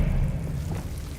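A Bombarda explosion spell goes off in Hogwarts Legacy: a deep, rolling boom with a heavy low rumble that fills the whole moment and fades only slightly.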